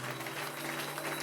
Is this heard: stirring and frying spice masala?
no